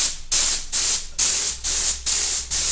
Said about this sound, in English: So I'm just going to spray it on the wall, just so I know what the spray pattern is going to be like.